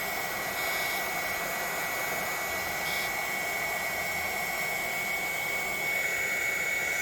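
A heat embossing tool blows steadily as it melts embossing powder, a constant close hot-air roar with a high whine throughout.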